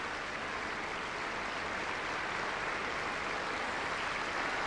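Applause from a packed opera house audience after a Scottish Opera performance of Gluck's Alceste in Glasgow, a steady, dense wash of clapping that holds evenly throughout without pause.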